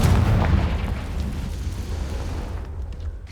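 A Confringo fire curse bursts in Hogwarts Legacy as one loud, deep booming explosion that rumbles and slowly fades.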